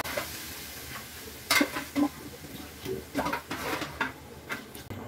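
Stirring and light sizzling as water is added to fried rice for biryani, with soft scraping and clinking in a pan coming in irregular bursts at low volume, and no voices.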